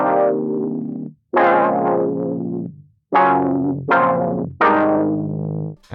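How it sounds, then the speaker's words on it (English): A synth tone run through a sticky tape effect with overdrive, giving five gritty, sustained notes with sharp attacks and brief silences between them, loud and with no voices. "I like to run these kind of sounds through the sticky tape,"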